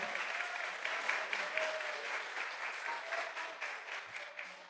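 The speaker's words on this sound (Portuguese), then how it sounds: "Vamos aplaudir o nosso Senhor." Church congregation clapping in praise, a continuous wash of applause at moderate distance, steady with slight swells, no talk over it.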